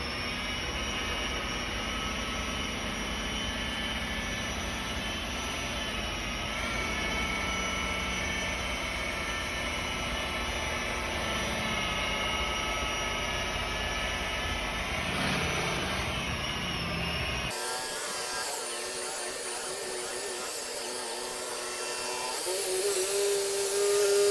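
Rotary polisher running steadily at 1,000 RPM with heavy-cut hybrid compound on dead gel coat, a loud continuous whirring drone that shifts in tone partway through and keeps going to the end.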